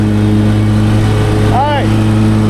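A lawn mower drones steadily and loudly close by, with its deck raised to break up clumps of grass, while someone talks over it.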